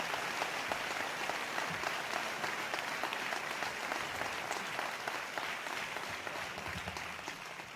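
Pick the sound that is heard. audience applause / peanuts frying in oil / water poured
audience applause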